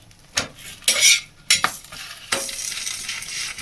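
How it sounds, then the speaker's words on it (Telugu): Torn parotta pieces are tossed in a hot pan, with sharp metallic clatters of a utensil against the pan followed by a continuous frying sizzle, loud and close, no voices. "ఇక పరోటా చింపేసి అన్ని పరోటాస్ ఫ్రై చేసి తీసేస్తాను"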